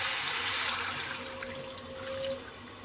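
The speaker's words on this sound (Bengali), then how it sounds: "গরম জলটা দিয়ে দিলাম" Hot water poured into a pot of khichuri, a steady, fairly loud pour and splash with a faint thin tone running through it and no talking.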